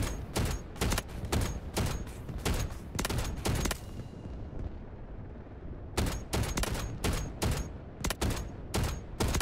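Attack helicopter gun in the Delta Force game firing rapid bursts of loud, close shots, with a brief pause in the middle before the staccato volleys resume.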